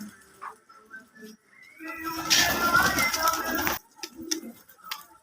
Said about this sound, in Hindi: ऐसे माशाल्लाह खूबसूरत में कबूतर हैं